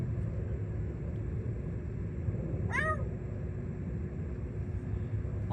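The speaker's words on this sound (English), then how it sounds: "Marble Cat's attacking Big V." A single short cat meow rises briefly mid-clip as Marble Cat attacks another cat, Big V, set against a steady low rumble of background noise.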